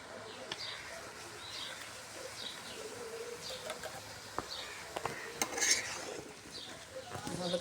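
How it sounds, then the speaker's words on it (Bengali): Turmeric powder and oil are being stirred in a cooking pot, giving soft, repeated scraping and clinking of a utensil against metal. The sound is quiet and irregular, with faint bird calls in the background. "ভালো করে লাড়ে মশলাটা মিক্স করে নিই"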